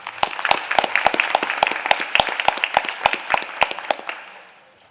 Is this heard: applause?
yes